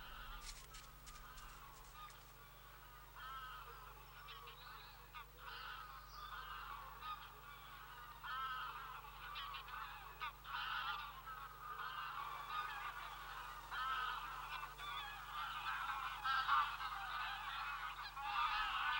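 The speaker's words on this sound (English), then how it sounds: "As the first snow powders the surrounding hills, graylag geese arrive from Iceland" A flock of greylag geese, arriving from Iceland in the Caledonian forest of Scotland as the first snow falls, honks repeatedly in overlapping calls, distant and fairly faint over a quiet outdoor background.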